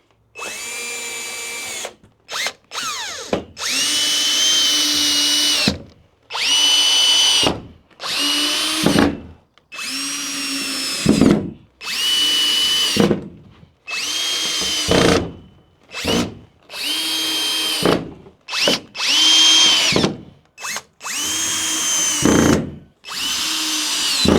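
A power drill drives wood screws to mount E-track rails on a trailer wall: loud, close bursts of whining motor, each a second or two long, repeated about a dozen times with short pauses between them.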